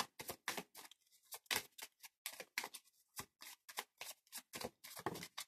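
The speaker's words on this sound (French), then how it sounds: "je continue le brassage des cartes" Oracle cards shuffled by hand in a repeated riffling rhythm, a steady series of crisp papery bursts, close and moderately loud, with no talking.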